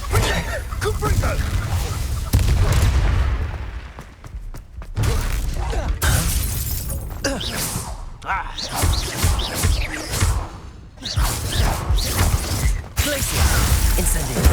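Repeated Confringo blasting spell explosions sound in Hogwarts Legacy combat as loud, close crashes and thuds. They come in bursts separated by brief lulls, mixed with whooshes and shouting voices.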